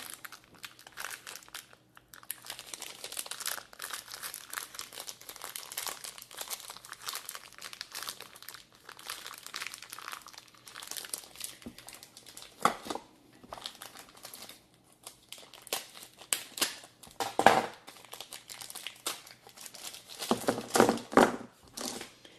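Packaging crinkles and tears for a long stretch while board game dice for Black Orchestra are unwrapped, a close, busy run of plastic crumpling with short pauses and a few louder rips.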